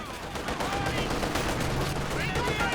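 Machine gun fire in a Company of Heroes 2 match, loud rapid bursts rattling continuously with other battle sounds layered over it, close and dense.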